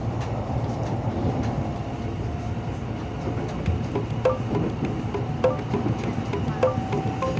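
Commuter train ride in Jakarta: a steady loud rumble of the moving carriage with rhythmic wheel clicks and occasional faint squeals, heard from inside the car with no talk.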